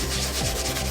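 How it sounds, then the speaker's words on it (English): Light sanding of a handmade wooden shield, a steady continuous rubbing scrape close to the microphone with no pauses or talk. "give it a light sanding again"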